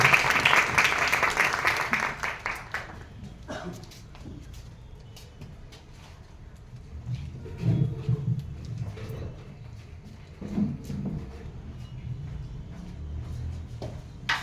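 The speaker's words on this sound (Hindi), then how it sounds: "एक बारी जोरदार तालियां नाटक की" Loud audience applause after a play at a university theatre festival fills the opening few seconds, then fades into quieter room noise with scattered low voices and faint clatter.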